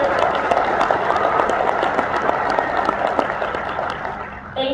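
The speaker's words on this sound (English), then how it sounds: "Let's give every graduate a round of applause." A graduation audience at a Utah State University commencement applauds in a steady, dense wash of clapping that continues for several seconds, then fades slightly near the end.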